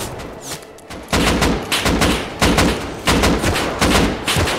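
Automatic gunfire from a Python revolver in the survival game Rust, a loud close string of rapid rhythmic bursts that keeps going after a quieter opening.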